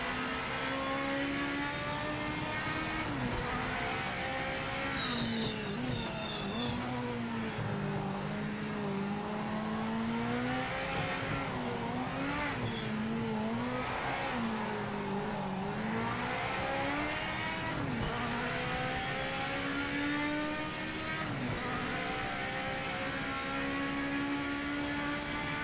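A Group 5 race car in Project Motor Racing howls continuously through its gears, the loud engine note climbing and dropping repeatedly over about 25 seconds with sharp shifts and braking dips, no talking.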